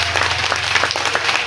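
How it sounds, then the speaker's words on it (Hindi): An audience at a staged mythological play of Hiranyaksha's slaying claps loudly in a dense, close burst of applause over a low hum. "तो एक बार सभी जोरदार ताली"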